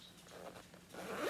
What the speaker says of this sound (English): They always have nice zippers.